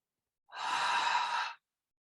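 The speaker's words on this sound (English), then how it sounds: "See if you can feel a couple really deep breaths, filling your torso up with air." One deep, breathy exhale during yoga, close and soft, lasting about a second with silence on either side.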